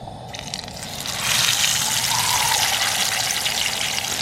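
Tilapia frying in a small pan over an outdoor fire: a bubbling, watery hiss that swells suddenly and then stays loud and steady, with no voices.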